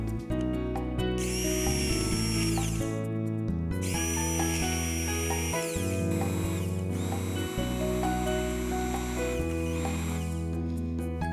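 A cold cream soup is whizzed into a purée with an electric blender, a loud, close motor whine holding steady tones that shift in pitch, with brief pauses between bursts.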